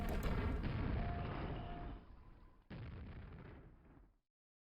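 Grenade launcher explosions in a video game: a loud booming blast that rumbles and fades, then a second sharp detonation that also decays into silence.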